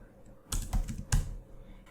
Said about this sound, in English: So I'm just typing sudo mount -o